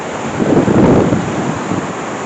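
Ritson Force, a small waterfall in the Wasdale Valley in Cumbria's Lake District, pours with a steady, close, rushing roar of falling water.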